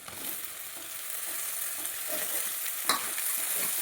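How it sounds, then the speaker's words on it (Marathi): Green chillies and tomato stir-frying in oil in a pan, a steady bright sizzle with a few scraping stirs of the spoon and one sharper clack near the end, close and moderately loud, with no talking. "आता ते चांगलं आपल्याला मिक्स करून घ्यायचं आहे तेलामध्ये"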